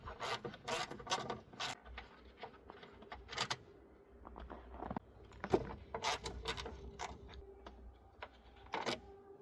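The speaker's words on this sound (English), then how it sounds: "We're going to take these two 10mm bolts out." Two 10mm bolts being worked loose from the intake tubing of a Toyota Camry, heard as close, faint scraping and rasping metal clicks with brief rattles, no talking.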